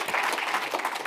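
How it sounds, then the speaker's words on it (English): Conference audience applauding after a talk, a dense steady wash of many hands clapping together for about a second, full and close, with no speech. "Big round of applause for Hugo."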